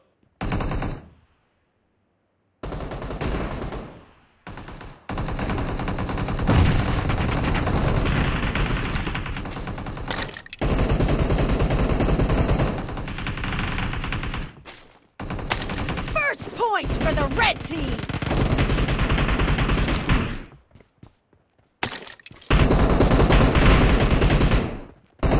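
Automatic gunfire from a video game team deathmatch comes in loud, sustained bursts, broken by short silent gaps and scattered sharp shots.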